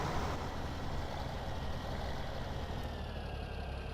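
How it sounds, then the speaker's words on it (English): A tractor engine in Farming Simulator 17 idles at a steady, mid-pitched rumble, close and constant for the whole stretch. "Get this tractor in place."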